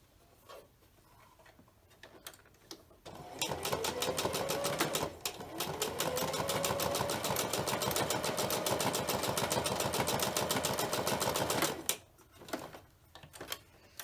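A sewing machine runs a zigzag stitch across fabric while making a pleated pocket face mask. Fast, steady stitching fills about eight seconds, loud and close, with quiet moments before and after and no talking.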